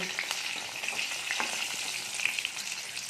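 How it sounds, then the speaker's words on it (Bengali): Pieces of spicy pitha dough fry in hot oil until brown, giving a steady, close sizzle with soft crackling and faint bubbling throughout, with no voices. "এখন এগুলোকে আমরা ব্রাউন কালার করে ভেজে নেব"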